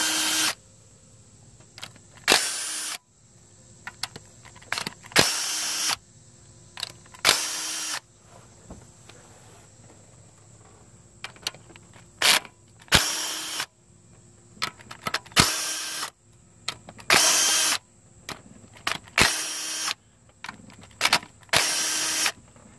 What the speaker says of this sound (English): I'm just going to go all the way around and remove all of these 10 millimeter bolts